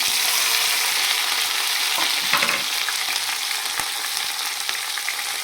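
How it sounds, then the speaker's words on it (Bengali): Capsicum, tomato and onion frying with ginger and garlic in a pan, giving a dense, continuous sizzle with occasional scraping stirs, close and loud throughout. "এখন এটাকে সুন্দর করে ফ্রাই করে নেবো"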